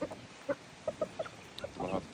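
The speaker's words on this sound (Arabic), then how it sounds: "طبعا هذا دجاج كويتي أصلي، هذا دجاج كويتية" Kuwaiti chickens cluck in short, separate bursts, several quick clucks close by over a quiet background.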